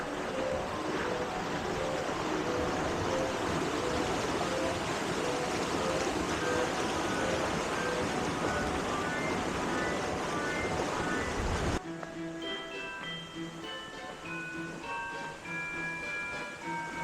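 A river charges beneath a frozen waterfall at Stubb's Falls in Arrowhead Provincial Park, Ontario, in winter, a steady loud broadband rush that then drops to a quieter, lighter flow near the end.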